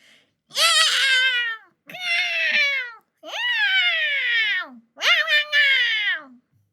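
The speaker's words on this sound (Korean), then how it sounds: "그 소리는 고양이가 꼭 한 명이라도 죽여야 할 것처럼 싸우는 듯한 소리로 바뀌었죠." Cats yowling and caterwauling as if fighting, four long wavering howls in close succession, loud and near with short gaps between them, no voices.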